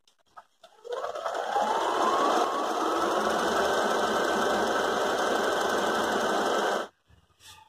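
A Brother DS1300 sewing machine runs a triple stitch in one steady, close, loud burst of rapid whirring that lasts several seconds before stopping, with brief handling noises at either end.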